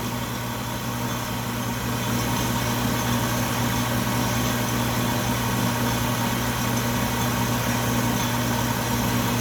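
Atlas 10-D lathe motor labouring under load while cutting 1018 steel, a steady droning hum with constant whine and vibration, loud and unbroken throughout, no talk.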